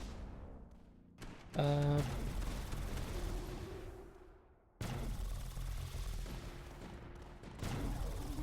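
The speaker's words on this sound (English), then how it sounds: "Look at those Reapers shooting." Reaper towers in the strategy game Tower Dominion fire in dense, sustained bursts of rapid gunfire and explosions, loud and continuous with a brief lull midway, plus a short rising electronic tone.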